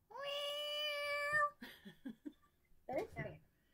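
A person imitates a cat's meow with one long, drawn-out vocal meow, loud and close, followed by a few short spoken phrases at a casual wine-tasting get-together.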